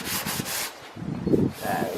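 Sandpaper rubbing along a wooden fillet at the deck edge of a model boat, a few short back-and-forth strokes, close and fairly loud.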